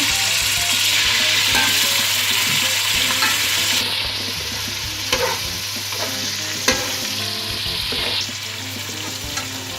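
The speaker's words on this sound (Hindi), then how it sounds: "अब इसमें चिकन फ्राई करेंगे। गरम मसाला डाल दें इसमें, लहसुन अदरक डाल दें।" Chicken sizzles loudly in a pot with garam masala, garlic and ginger for murgh pulao, a continuous close frying hiss broken by a few stirring clanks and scrapes, no talking.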